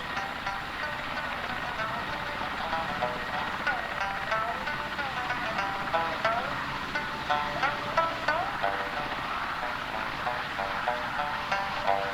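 Mi-8 helicopter carrying passengers to a reindeer herders' camp in Mongolia, its steady rotor and engine roar continuous and loud throughout, with a faint voice underneath.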